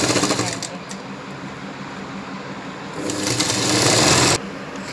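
A sewing machine runs steadily while stitching a lined katori blouse, a close, fast mechanical whir that grows louder toward the end and then drops off.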